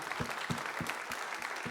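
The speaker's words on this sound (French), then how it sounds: "Allez-y, applaudissez-le si vous voulez" Brief, faint clapping comes from an audience at the official presentation of the Golden Globe Race skippers, with a few distinct claps spaced in a loose rhythm.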